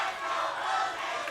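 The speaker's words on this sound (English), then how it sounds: "As the fans still chanting for the champion" Fans at a World League Wrestling summer event chant together for the champion, a distant, blended roar of many voices filling the venue for a brief stretch.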